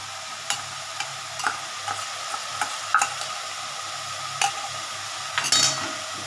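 Ginger paste and ground coriander and cumin stirred in a hot pan, a spoon scraping in irregular clicks and scrapes over a steady background sizzle, close and fairly quiet.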